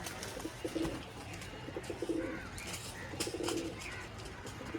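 Pigeons kept in a large mixed flock at a sale coo in repeated low throaty phrases, several birds close by, with a faint background hum and occasional rustling.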